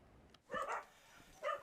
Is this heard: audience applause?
no